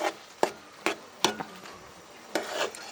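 Kalmi greens and potatoes are stirred in a pan with a spoon or spatula, giving sharp knocks and scrapes against the metal. Several irregular strikes come close and moderately loud over a soft background hiss.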